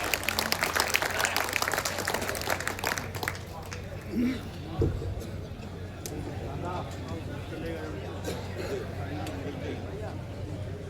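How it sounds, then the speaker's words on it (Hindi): Audience applause welcoming a poet onto the stage at a Hindi poetry recital, dense clapping loudest in the opening seconds, then settling into a steady crowd murmur with some talk. "जोरदार तालियों के साथ अभिवादन करें"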